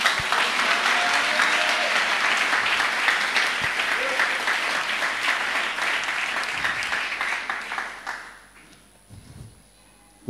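A church congregation bursts into loud, sustained applause that gradually thins and fades out near the end, leaving a brief quiet tail.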